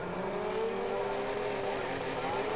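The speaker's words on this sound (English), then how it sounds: "As we listen to the 2JZ power of Phil Penny's Honda S600" A turbocharged Toyota 2JZ engine in a Honda S600 drag car at a Brisbane drag meet, roaring loud and steady at high revs for the whole stretch, with a rising harsh exhaust note and no voices over it.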